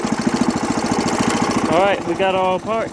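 A Wheel Horse garden tractor engine runs at a steady idle with a rough, pulsing rhythm, close and loud, while someone talks over it.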